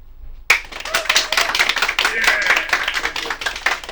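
Audience clapping for a contestant in a mock Mr. Universe vote at an improv comedy show, starting abruptly and continuing as dense, moderately loud applause with a few voices rising within it.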